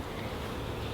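Honeybees in an opened backyard hive, the top feeder just removed, hum in a steady, dense drone that fills the whole moment close to the microphone, with some breathy wind noise mixed in.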